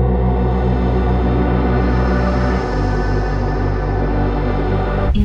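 A vocal sample run through a reverbing guitar rig with decay and mix turned fully up, giving a loud, washed-out drone of smeared tones and a low pulsing bass that shifts midway, ending with a brief burst.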